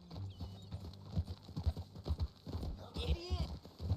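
Horse hooves clip-clopping in the Red Dead Redemption video game, a steady rhythmic trot heard under in-game music and ambience, with a brief whinny-like swell near the end.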